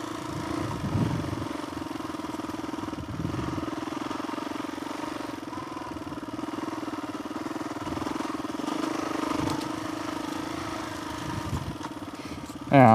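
A Suzuki DRZ400E (470 big-bore) dirt bike engine lugs in third gear at low revs along a sandy trail in hot weather, a steady, close, continuous drone with light clatter and a voice speaking over it.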